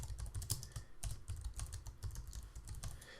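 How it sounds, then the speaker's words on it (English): Steady fast typing on a computer keyboard, with dense rapid key clicks and thumps running throughout, close but fairly quiet, and no one talking. "You don't need to be typing as quick as I'm typing."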